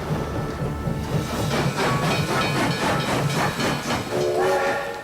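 A steam train hisses steadily at a railway station, a loud continuous rush of steam with rhythmic pulsing and a brief whistle-like tone near the end, no voices over it.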